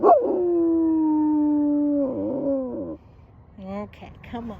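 A puppy lets out a long, close howl lasting about two seconds that wavers and trails off, followed by a few short yips and softer vocal sounds.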